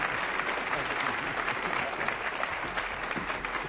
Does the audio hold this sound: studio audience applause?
yes